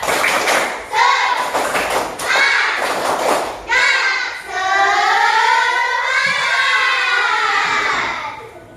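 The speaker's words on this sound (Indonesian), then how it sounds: "mari biar lebih semangat lagi kita tepuk semangat" A class of elementary schoolchildren repeats the 'tepuk semangat' clapping chant: quick groups of claps at the start, then a drawn-out chanted vocal line, loud and near, with children's voices throughout.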